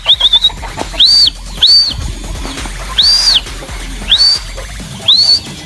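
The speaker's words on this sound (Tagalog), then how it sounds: "Nandito na yung isang ibon natin mga kalapatids." A racing pigeon arrives during a final training flight, and a series of five bright, rising-falling calls rings out at steady intervals over low, rumbling outdoor background noise.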